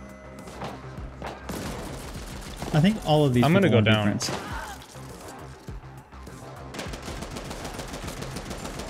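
Gunfire and explosions from the co-op shooter The Ascent, a dense crackle of shots and blasts running under excited talk from players throughout, with a brief louder burst of in-game sound in the middle.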